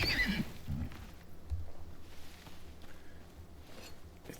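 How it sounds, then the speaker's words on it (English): A horse in the survival video game Icarus gives a whinny near the start, followed by faint hoof movement against quiet ambient sound. "You, however, it's a horse."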